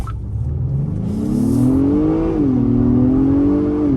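A 2021 Genesis GV80 SUV pulls away hard from a standstill, its engine note climbing steadily in a loud, close rising drone, dipping briefly at a gear change, then pulling strongly again.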